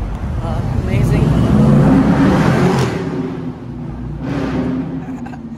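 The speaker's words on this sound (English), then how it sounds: "There's a bunch of RX-3s. This one just came in." A Mazda RX-3 arriving at a car meet, its engine rumbling loud and close before easing off, then rising again briefly, with people talking over the noise.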